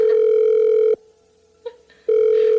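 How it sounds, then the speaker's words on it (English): A steady telephone line tone after a call hangs up, loud and close, breaking off for about a second with a faint click before the tone returns. "And it hangs up again."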